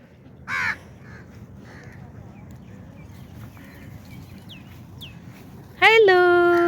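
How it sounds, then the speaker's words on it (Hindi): Crows caw near a Pakistani village while feeding on breakfast scraps, one harsh call early and a louder burst of cawing at the end, with faint background noise and soft talk between. "सब कव्वे भी नाश्ता कर रहे हैं"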